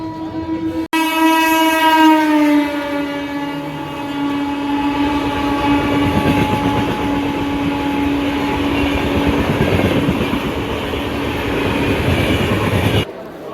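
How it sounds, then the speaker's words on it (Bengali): A local train horn blares loudly for a couple of seconds over the steady rumble and clatter of the passing Digha special train near Panskura, which continues close and loud throughout. "এটি হলো দীঘা যাওয়ার স্পেশাল ট্রেন"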